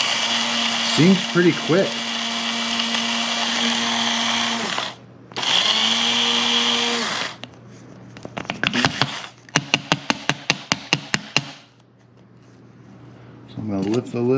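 Proctor Silex electric coffee grinder grinding a full batch of coffee beans, a loud, close whirring buzz in bursts with short gaps, followed by rapid clicking rattles, with a person talking briefly in between.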